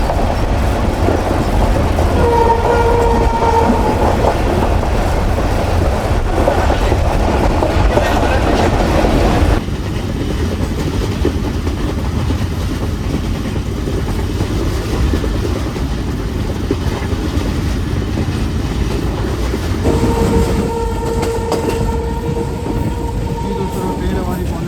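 Millat Express passenger train rolling on rails, a steady loud rumble and clatter from inside the carriage throughout, with faint tonal squeals and a brief shift in the noise partway.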